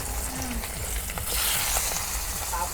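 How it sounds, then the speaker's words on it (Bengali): Belly-cut river fish frying in hot oil for a village-style meal, a loud, close, continuous hiss and crackle of spitting oil with no pauses. "তেল গরম হচ্ছে, এখন মাছ ভাইজা নেই।"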